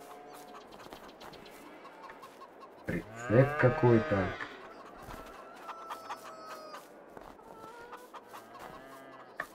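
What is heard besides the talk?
chickens clucking, Farming Simulator 22 video game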